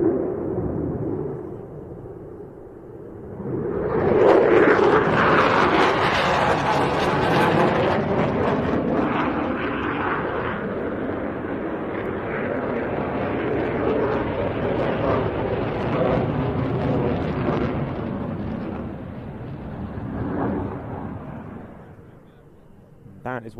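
Jet aircraft performing aileron rolls with slight back pressure during an airshow display at RIAT, a loud sustained roaring engine noise that swells and shifts in tone as it passes overhead, with people talking underneath.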